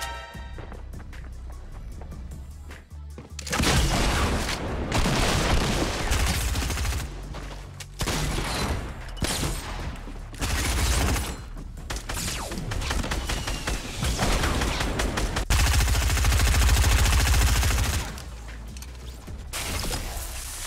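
Bursts of rapid gunfire in the Fortnite video game, loud and dense with short pauses, sometimes rattling like automatic fire, with no voices over it.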